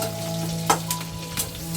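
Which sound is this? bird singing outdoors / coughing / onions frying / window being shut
onions frying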